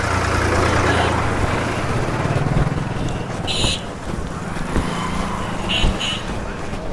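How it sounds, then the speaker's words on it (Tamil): A tractor runs at a busy mango market in Bangarupalem, Andhra Pradesh, its engine a steady, loud rumble that holds throughout, with brief higher clatters and background street noise around it. "அடுத்தது பாருங்க டிராக்டர் வந்துட்டு இருக்கு"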